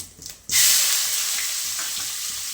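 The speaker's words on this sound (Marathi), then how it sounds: "कांदा छान असा परतून घ्यायचा लालसर होईपर्यंत परतल्याचा" Onion for dum aloo hits a hot pan and bursts into a loud, bright sizzle after a brief stir, then keeps frying with a steady, slowly fading hiss close by; no one talks.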